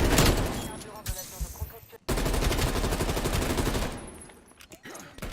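Rapid automatic gunfire from the video game Call of Duty Black Ops Cold War, dense rattling bursts with a brief break, mixed with a player talking over the shooting.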